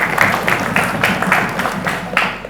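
Applause for quiz teams at a school competition in Palembang, a crowd clapping steadily and fairly loudly in a hall, with a rippling pulse throughout.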